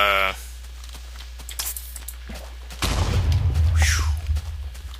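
Explosion in Minecraft, a sudden loud low boom that cuts off a steady tone and rumbles on for a couple of seconds, with faint game sounds before it.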